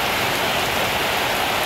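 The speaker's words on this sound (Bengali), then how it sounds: "আবারও মুষলধারে বৃষ্টি" Heavy torrential downpour during severe flooding rains, a loud, dense, steady roar of rain hissing evenly throughout with no voices.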